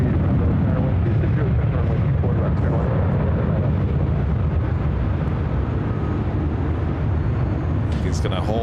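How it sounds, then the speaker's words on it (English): A Lufthansa airliner taking off at LAX, its jet engines making a loud, steady roar that dominates throughout, heard from the airfield with some background voices. "Lufthansa King up next for takeoff."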